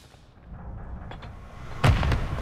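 A grenade explosion in Modern Warfare 3 during a tournament match, a single loud booming blast near the end following faint distant pops, with no talking.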